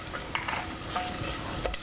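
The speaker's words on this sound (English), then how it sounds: "we let our spices sizzle for just a few seconds" Ajwain seeds and spices sizzle in hot oil, giving a short, steady frying hiss with a few small pops and crackles near the end.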